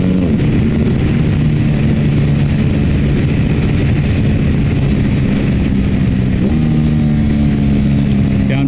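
An Aprilia RS 660 motorcycle accelerates hard, with a loud, continuous engine drone. A quickshifter gear change brings a shift in pitch near the end, heard close up.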